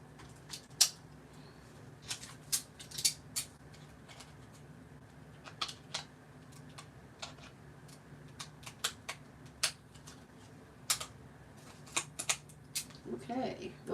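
Sharp, irregular snips of scissors cutting paper, a dozen or so quick clicks spread across quiet background with faint low hum.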